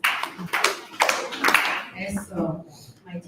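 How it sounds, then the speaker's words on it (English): Audience clapping on request at an event, a few sharp, irregular claps heard up close, with voices talking over and between them. "clap 4 times."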